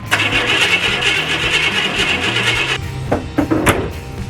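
A Chevrolet K1500 truck engine with no fuel supply turns over steadily with a rough, rhythmic churning that never catches, then cuts off into a few loud clunks and rattles up close.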